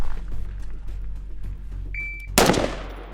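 During a pistol shooting drill, a timer beep sounds, then a single loud, sharp gunshot is followed by a decaying ring over low outdoor background noise.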